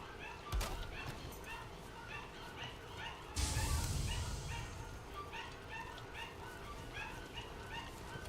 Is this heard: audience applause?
no